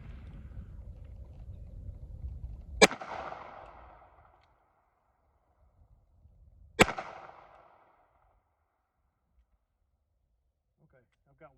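Two sharp, loud gunshots from a Smith & Wesson 351 PD revolver crack about four seconds apart, each trailing off in an outdoor echo, with quiet between them.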